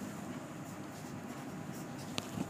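An equation is written on a board, producing a soft continuous scratching of steady strokes at low volume, with a couple of small taps near the end and no talking.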